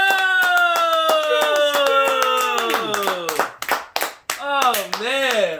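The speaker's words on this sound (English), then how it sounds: "please everyone give a big warm round of applause" A talk-show audience gives a round of applause to welcome a guest, with sharp, rhythmic claps beneath a loud, drawn-out voice that dominates before breaking off near the end.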